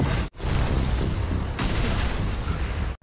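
A smoke bomb bursting in an action drama scene, a loud dense rumbling blast that fills the clip, with a sharp cut near the start and another sudden burst partway through.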